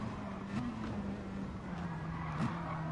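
Tires squeal from a Ferrari race car sliding in Gran Turismo Sport, a steady wavering screech over continuous engine and road noise throughout, loud and close with no talking.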